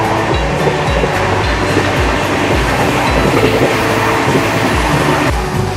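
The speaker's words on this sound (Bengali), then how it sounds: "আমাদের ট্রেন প্রায় একশো তিরিশ টাচ করে ফেলেছে হেভি স্পিডে চলছে এখন ট্রেন" Howrah–Puri Shatabdi Express running at about 130 km/h, heard from inside the coach as a loud, steady roar with rhythmic clickety-clack of wheels over rail joints throughout.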